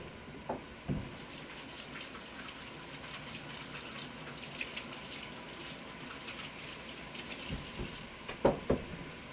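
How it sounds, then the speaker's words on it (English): Hands washed under a running kitchen tap make a faint, steady stream of water with a few soft splashes and clunks near the end. "So let me wash my hands."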